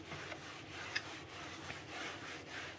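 A cloth buffs a surface with Sapadilla all-purpose natural cleaner, giving a faint, steady rubbing swish in repeated strokes with a few light squeaks, close and alone.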